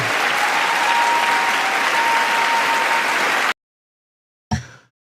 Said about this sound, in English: they up there clapping like a bunch of trained heels